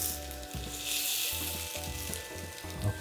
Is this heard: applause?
no